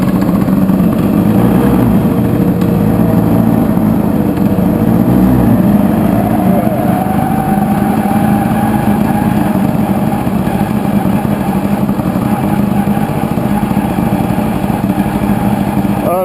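A warmed-up Tomos LX moped runs steadily at a buzzy idle for the whole stretch, the small two-stroke drone close and loud with a slight rise in pitch midway.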